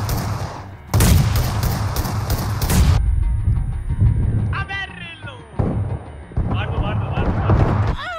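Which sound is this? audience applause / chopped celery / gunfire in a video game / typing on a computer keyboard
gunfire in a video game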